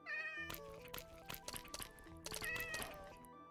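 A Minecraft cat meows repeatedly, clear and close, in several drawn-out calls over a constant game backdrop, with no talking.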